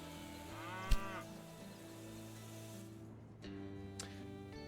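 Cow mooing in the railway strategy video game Railway Empire 2, a low drawn-out bovine call repeated over a steady game soundscape with a few brief sharp clicks, no talking.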